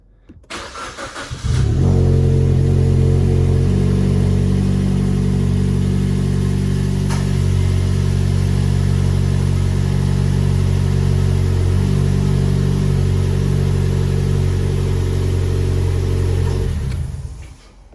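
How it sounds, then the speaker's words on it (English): A 2012 Suzuki Swift Sport engine starts up after an oil change and runs at a steady, loud idle for about fifteen seconds before cutting off, with no talking. "you start the car and leave it running for 12 seconds"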